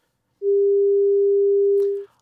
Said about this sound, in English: if we feed a 200 Hz sine wave